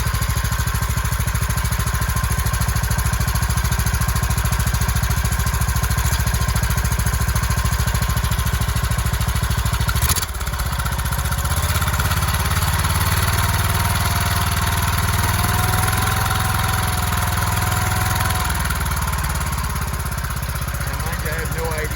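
Small engine of a John Deere 216 lawn tractor running steadily on gasoline, a loud, buzzing idle that shifts pitch midway as the throttle changes, continuous and close, with someone talking over it.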